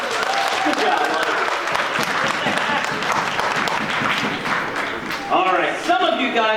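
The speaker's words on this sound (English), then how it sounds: "Give her a round of applause." A crowd applauds steadily throughout at a Catholic school fundraiser, a dense wash of clapping that continues without a break.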